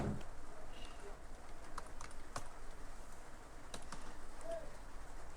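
Keys on a computer keyboard click in short irregular bursts, faint and close against a quiet room hum, with no talking over them.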